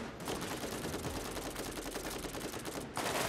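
Rapid machine-gun fire in the video game Borderlands during co-op play, a dense continuous burst of shots that briefly cuts out near the end before resuming, with no talk over it.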